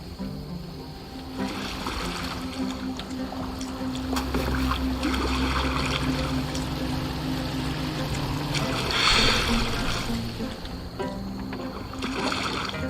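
Boat moving on water in Assassin's Creed Valhalla, a continuous wash of water and low rumbling hull noise with a few splashy swells, steady and fairly close.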